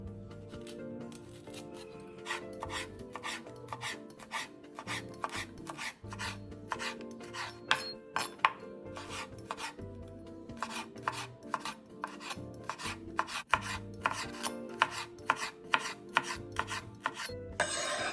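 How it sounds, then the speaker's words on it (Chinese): A knife slices fresh chillies into thin strips on a cutting board, quick crisp repeated chops in uneven bursts, close and clear with no voices. "鲜辣椒3条，去蒂后对半切开。 去籽后再切成丝备用。"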